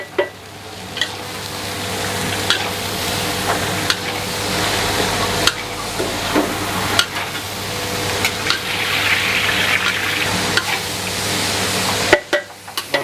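Bean sprouts stir-fried in a large wok for a hundred portions with XO sauce seasoning, sizzling steadily and loudly throughout, punctuated by repeated clanks of the spatula against the metal pan, with no talk.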